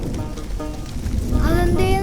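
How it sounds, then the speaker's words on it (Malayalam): Heavy rain falls in a Malayalam film scene as a steady, dense broadband hiss with a low rumble throughout. A voice begins speaking over the rain near the end. "അതേ നല്ല മഴ തന്നെട്ടാ"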